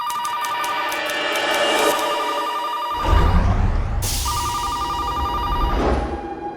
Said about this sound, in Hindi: फैक्ट्री में कोई फोन नहीं उठा रहा है।